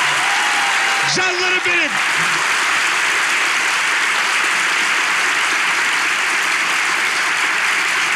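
Studio audience applause opens a Turkish television relationship-quiz show, a dense, steady roar of clapping lasting throughout, with a brief spoken line from the host near the start.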